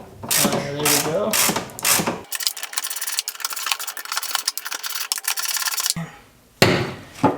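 An 8mm socket ratchet works loose a fuel line fitting on a Nissan 240SX, with a few seconds of fast clicking ratchet strokes close up, framed by bursts of handling noise.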